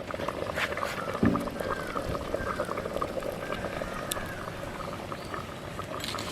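Jaffna-style mutton bone curry simmering in a pot, giving a steady close bubbling and gurgling texture that runs throughout at moderate level, with a brief clink near the start.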